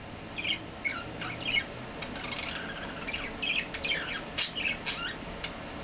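A pet budgie chirps and warbles in short, bright bursts of tweets and squawky calls, fairly close, with brief gaps between phrases over a faint background hum.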